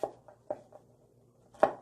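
A knife thinly slicing garlic cloves and ginger on a cutting board, a few crisp close taps spaced apart, the last one sharper and louder.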